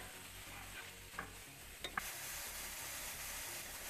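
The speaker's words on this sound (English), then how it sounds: "so we've sauteed our vegetables for a little bit" Vegetables sautéing in a pan, a steady broad sizzle and hiss running throughout with a few brief stirring clicks near the middle, close and moderately quiet with no talking.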